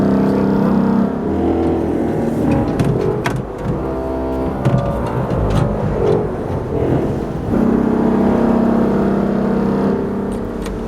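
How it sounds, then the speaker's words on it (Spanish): A loud, brassy bombarde reed stop on a cathedral pipe organ sounding sustained chords that shift in pitch, buzzy and powerful, with no voices. "Y ese es el sonido de la bombarda."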